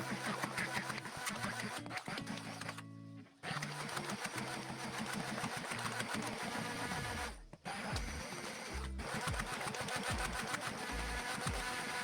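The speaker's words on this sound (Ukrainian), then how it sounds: "Все гарно перебиваю блендером до однорідної маси." A small electric blender motor whirs steadily and loudly while blending a pumpkin and cottage cheese mixture, with a couple of short pauses and pitch shifts.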